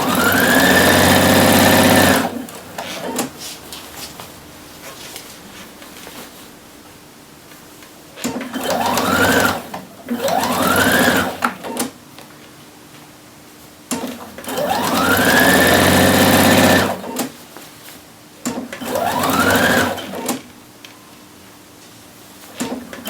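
A domestic sewing machine stitching a shirt in several bursts, each spinning up with a rising whir, running steadily, then stopping, with quiet pauses between, close and alone.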